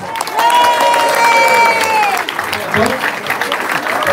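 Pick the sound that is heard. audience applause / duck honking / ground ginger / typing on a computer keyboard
audience applause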